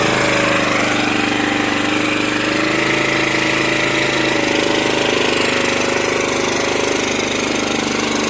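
A small engine driving a generator runs steadily at a constant speed, giving a loud, close, unbroken mechanical drone with a fast, even knocking pulse throughout and no voices.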